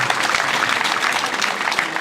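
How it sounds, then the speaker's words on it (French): Audience applause at an award ceremony in Côte d'Ivoire, a dense, steady clatter of many hands clapping loudly and continuously with no pause, close and full throughout. "Monsieur Yeo Poroba, nous applaudissons encore très fort."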